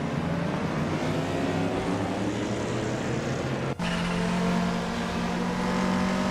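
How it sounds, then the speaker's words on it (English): A 1965 Alfa Romeo GTA racing engine in a video game holds a steady high drone, with a brief cut in the middle before the sustained engine note resumes, with no voices. "Tyler Drums 31 is driving a 1965 Alfa Romeo GTA"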